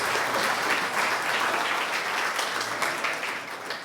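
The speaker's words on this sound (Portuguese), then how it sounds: "Uma salva de palmas a Deus pela vida de todos os presentes." Applause from mourners at a funeral gathering, a dense, even round of many hands clapping close by that holds steady and tapers slightly at the end, with no talking.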